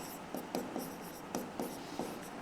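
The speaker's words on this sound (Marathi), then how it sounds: "तर तिसऱ्यात लिहितो मी त्रिकोण ABD" Pen or chalk writing by hand during a geometry lesson, a run of quick, faint scratchy strokes at a steady rhythm with no talk.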